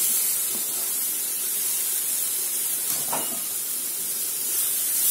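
Finely chopped tomatoes go into a hot pan of cooked besan for palak paneer, giving a steady close sizzling hiss with no talking.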